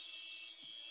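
Arena buzzer marking the end of the third quarter at an Emir Cup 2019 basketball game between Qatar Sports Club and Al Ahli, a steady, loud electronic tone holding throughout the second with a slight dip near the end.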